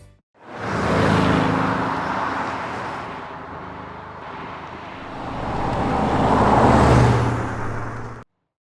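A turbocharged flat-four engine in a classic Porsche 912 swells up loudly, fades to a steady drone, then builds again before cutting off, heard close and alone without any talking.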